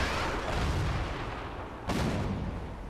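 Tank cannon fire in the game World of Tanks, with a broad rumbling boom early on and a second sharp, loud shot hitting near the two-second mark over a continuous battlefield din.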